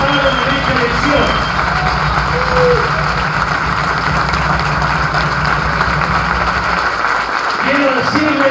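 A crowd applauds steadily at a Spanish-language election victory event, a dense, loud wash of clapping with voices mixed in underneath and a brief dip near the end.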